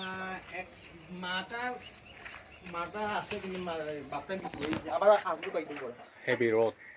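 Pigeons cooing among the cages at a pigeon market, soft and low beneath nearly continuous close conversation between people.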